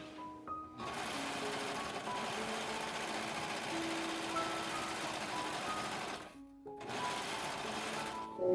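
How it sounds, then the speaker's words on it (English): Serger overlock machine stitching the seams of doll panties, a steady continuous whirring hum that runs for about six seconds, stops briefly, then starts again. No one talks. "When I serge it, I think I'm going to go ahead and keep this center pin in."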